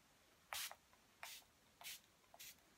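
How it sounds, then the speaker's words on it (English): Four short, crisp spritzes from a spray bottle lightly misting a face, evenly spaced about half a second apart, close and quiet between bursts. "And I'm just going to really lightly mist it onto my face"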